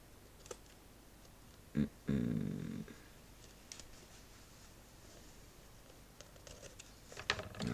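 Scissors cut through lace trim on a cover, giving a couple of brief, close crunching snips that stand out against a quiet background with faint clicks.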